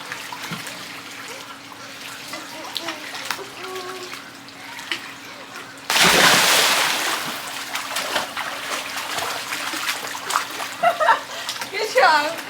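Someone jumps into a vacation pool with one sudden loud splash midway, followed by churning, dripping water, while people talk before and after.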